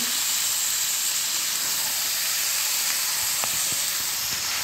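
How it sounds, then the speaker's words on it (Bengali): Chicken pieces for a home-style chicken curry sauté in a hot pan with a steady, close hiss of steam and sizzle throughout, with a few faint clinks near the end. "চিকেনটা দিয়েও আমি কিছুক্ষণ কষাবো"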